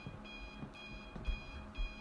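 Electronic alarm clock ringing in the video game Dead Seater, a rapid repeating beep pattern in short bursts, fairly clear over a quiet background.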